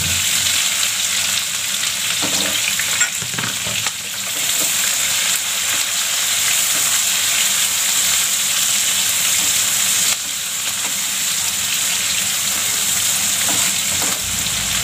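Onions sizzling steadily in a hot pan for a dosa masala filling, a loud continuous frying hiss with soft stirring scrapes, close by and without talk.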